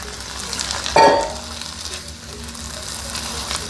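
Stir-fry sauce for Beijing beef hits a hot pan with a sharp hiss, then settles into a steady close sizzle and bubbling as it cooks on, with no talk.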